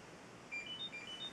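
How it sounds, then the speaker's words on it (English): A flag box's electronic key lock lets out a few faint, thin high beeps in a quiet room as it opens. "You hear the beep, you hear it open"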